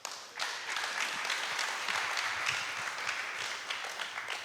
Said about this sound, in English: A round of applause, please, for this wise panel.